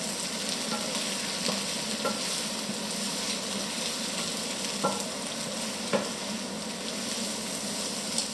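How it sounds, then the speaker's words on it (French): Onions stir-fried in olive oil for a slow confit, hissing steadily in the pan with soft scrapes and light taps from stirring at close range, no voices. "pour avoir un bon confit d'oignons, il est important de les remuer extrêmement souvent."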